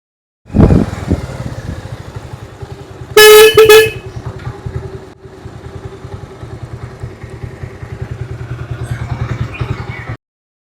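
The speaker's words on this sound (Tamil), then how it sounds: "வாங்க போய் ஒரு ஹார்ன் அடிப்போம்." A loud car horn blasts for about a second amid a steady idling engine rumble, with the motor continuing after the honk.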